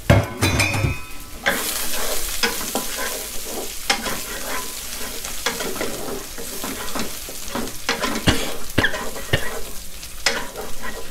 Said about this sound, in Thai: เดี๋ยวเอากระเทียมใส่ลงไปนะครับกระเทียมใช้เป็นกระเทียมไทยกีบเล็กนะครับใส่ลงไป